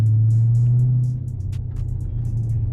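2020 Dodge Scat Pack driving off after a burnout, a loud close engine drone that drops in pitch after a second and settles into a steady low rumble with faint clicks.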